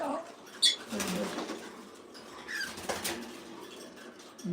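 A pet male bird coos while courting a mate, giving soft, low, repeated calls close by in a quiet room, with a brief chirp and a little rustling and movement.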